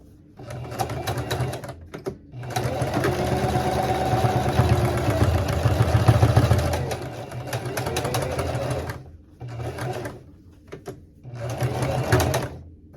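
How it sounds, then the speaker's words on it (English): A sewing machine top-stitches fabric for a cat-themed bag in long steady runs, its motor whirring loud and close, pausing briefly around two seconds and again near nine and eleven seconds before starting up once more. "So now we'll flip it and we're going to top stitch the other side."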